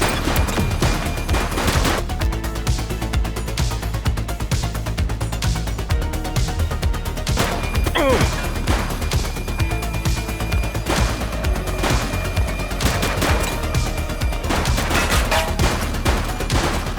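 A suspect's gunfire in The Precinct police video game comes as rapid, continuous bursts of shots that sustain loudly for the whole stretch, with brief spikes like crashes.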